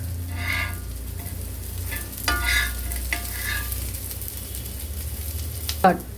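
A cutlet shallow-fries in a little oil on a dosa tawa with a soft, even sizzle, broken by a few brief stirring or scraping sounds and a sharp clink near the end.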